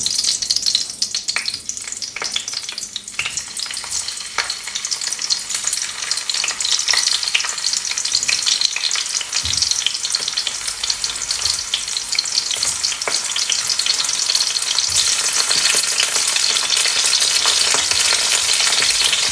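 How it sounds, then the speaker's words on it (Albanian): Zucchini fries in a pan with a loud, continuous sizzle and crackle, broken by occasional scrapes of stirring, with no talking. "Pasi kemi skuqur kunguj"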